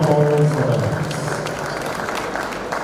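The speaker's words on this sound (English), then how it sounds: "Round of applause for that" Clapping from a gathered crowd welcoming the governor of Edo State and a German delegation, a steady mid-level patter lasting throughout, with a voice briefly audible at the start.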